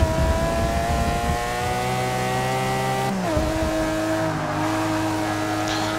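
A Mercedes CLK GTR race car in Forza 6 at Watkins Glen screams at full throttle, a loud sustained high-revving engine note that drops sharply at a gear shift midway, then climbs again.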